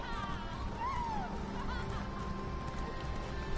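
Horse hooves clip-clop at a steady pace while riding in Elder Scrolls Online, a constant rhythmic patter under game ambience, with a faint whinny-like whistle early on.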